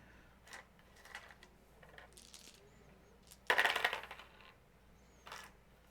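Dice tumble and clatter across a tabletop during a board game session in one short, loud burst of rattling, with faint scattered clicks before and after.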